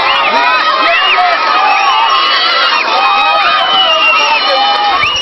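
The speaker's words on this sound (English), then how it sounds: "the engine is not even on, but people are still cheering" A large outdoor crowd cheers and whoops continuously with children shouting throughout, loud and dense, as a homemade scrap-built plane runs along the ground with its engine off.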